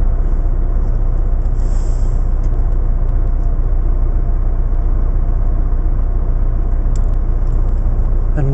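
A truck's 9.5-litre straight-six diesel engine rated at 310 horsepower runs at a steady, loud, low rumble from inside the cab, constant throughout with little change, and no talk.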